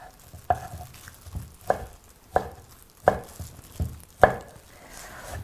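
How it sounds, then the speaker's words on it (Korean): A knife slices through a large hwanggeumhyang golden citrus on a board, producing six distinct, evenly spaced thunks close up in a quiet room, with no speech. "이것까지만 썰고 한번 만들어 보겠습니다."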